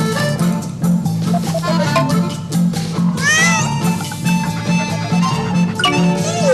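A cat meows several times, loud and close, with rising and falling wails over a steady backing of music.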